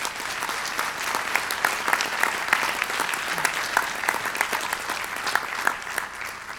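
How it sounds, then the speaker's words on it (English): A large congregation gives itself a round of applause, an even, sustained patter of many hands clapping at moderate loudness with no break. "I think we should give all of ourselves a round of applause for that."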